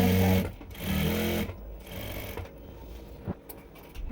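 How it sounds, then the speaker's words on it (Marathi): An electric sewing machine stitches a lining to the top fabric of a dress cut from a saree, running in two steady bursts near the start and then fading to lighter mechanical ticking and handling noise. "दोन्ही साईडला आपल्याला व्यवस्थित स्टिच करून घ्यायचं आहे"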